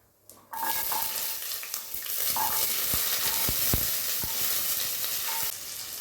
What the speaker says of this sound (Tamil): இப்போது சின்ன வெங்காயம் பூண்டு பச்சை மிளகாய் எல்லாம் அப்படியே நம்ம போட்டுடலாம்